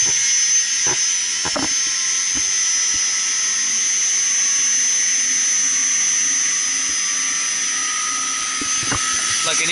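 An industrial chiller compressor running steadily after startup, giving a loud sustained high-pitched whine and hum that fills the clip, with a few faint clicks and knocks and brief speech-like sounds in the background.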